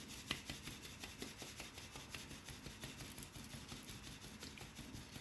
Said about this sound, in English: I'm going to sieve that nice and easy.